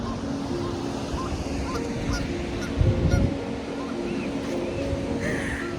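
Geese honk intermittently over a steady roar of Pacific Ocean surf in California, a few calls rising from the outdoor background with faint voices nearby.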